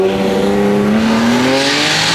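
A BMW E92 335i with a dual-clutch transmission accelerates hard, its engine note climbing steadily in pitch over two seconds, loud and close as if heard from inside the car.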